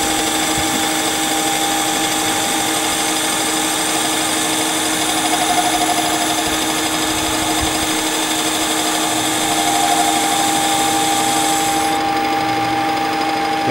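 A lathe bores a taper 100 millimetres deep, taking half-millimetre cuts, with a steady machine drone and a high whine running continuously throughout, loud and unbroken, with no talk over it.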